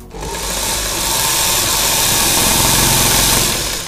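An electric sewing machine runs steadily while stitching a bell-bottom trouser leg, a continuous close buzzing whir lasting the whole stretch with no talk.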